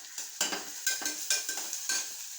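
Cumin powder and chili powder hitting hot oil in a pan for mutton curry, giving a close, steady sizzle broken by several short scraping stirs of a spoon against the pan.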